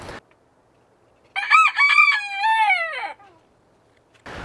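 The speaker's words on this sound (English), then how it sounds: "my rooster Doug keeps crowing his head off while I'm trying to talk" A rooster crows once from about a metre or two away, a loud, falling cock-a-doodle-doo lasting under two seconds with quiet backyard air before and after and no talking.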